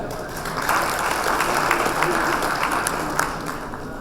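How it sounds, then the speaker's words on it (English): An audience at an IPCA address by its vice president bursts into applause, a dense, steady wash of clapping lasting a few seconds at moderate loudness. "I think we deserve an applause for that."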